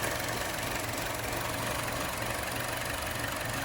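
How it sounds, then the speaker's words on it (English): A vehicle engine idles steadily after a repair that left a little oil pooling, a continuous low rumble with a faint knocking texture, close and unchanging throughout with no voices. "I'm gonna let it idle."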